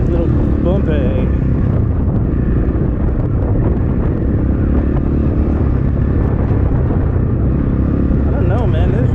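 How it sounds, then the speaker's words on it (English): Strong wind buffeting the microphone on a dirt bike trail, a constant loud low roar with a running motorcycle engine mixed in, and a rider's voice heard briefly. "This wind is nuts today."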